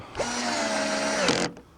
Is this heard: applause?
no